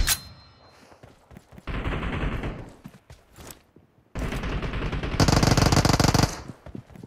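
Video game gunfire in a Santorini team deathmatch: sharp initial shot, then several loud sustained automatic bursts separated by brief quieter gaps, close and intense, with no talk.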